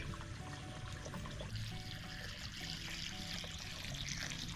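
Water poured into a cooking pot for boiling squash (kalabasa), a steady close splashing and gurgling flow that lasts the whole stretch without pause or talk.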